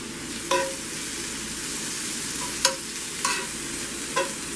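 A pan of keto faux shepherd's pie filling seasoned with ground black pepper being stirred, with four distinct scraping strokes spaced a second or two apart over a steady low sizzle, close and fairly loud.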